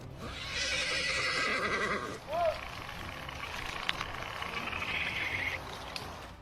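A horse whinnies uneasily in the woods, a long high neigh that ends in a short squeal, then a second drawn-out call follows after a pause, moderately close.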